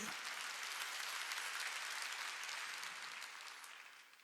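A church congregation clapping together during a Sunday service, a dense continuous wash of applause from many hands that holds steady and then slowly fades toward the end, with no clear speech over it.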